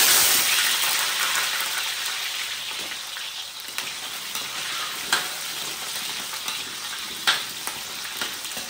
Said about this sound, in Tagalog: ilalagay muna natin yung patatas at saka carrots. Ipiprito muna natin to kasi mas masarap yan kapag ganon